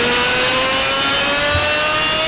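A Toyota Supra engine held at a high, steady rev, loud and close, with a strong smooth whining tone that drifts slightly upward and carries no talk over it.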